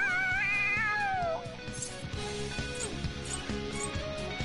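Cat character in the video game Persona 5 Royal meowing excitedly, a loud wavering high meow that rises and falls before breaking off, followed by busy game sound effects and background music.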